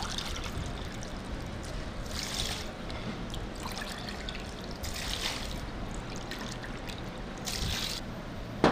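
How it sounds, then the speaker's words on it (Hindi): Water trickles and pours steadily into a cooking pot while preparing siri paye, with several louder surges of pouring over a continuous splashing flow, close and alone. "तकरीबन 11 गिलास मैंने इसमें पानी डाल लिया है।"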